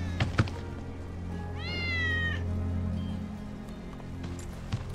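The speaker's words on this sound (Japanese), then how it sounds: "ウェッジの猫だ。" Wedge's cat in Final Fantasy 7 Remake gives a single clear, rising meow, preceded by a couple of soft thumps over a quiet low ambient hum.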